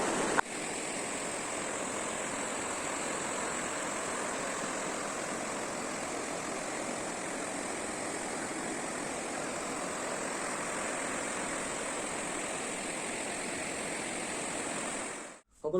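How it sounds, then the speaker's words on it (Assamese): A river flowing through hilly country at the Bhutan border, heard as a steady, unbroken rush of water from start to finish at an even level, alone without voices. "আপুনি তললৈ চালে দেখা পাব ধুনীয়া নৈ এখন বৈ গৈছে এই নৈখন ভূটানৰ পৰাই ওলাই আহিছে"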